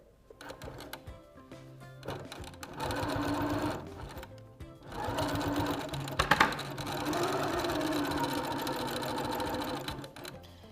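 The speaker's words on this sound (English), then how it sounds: "I'm just going to do a straight stitch all the way around" A sewing machine runs a straight stitch around a fabric wallet in two loud, steady bursts of fast rhythmic needle clatter, separated by a short pause, close and clear with no talking.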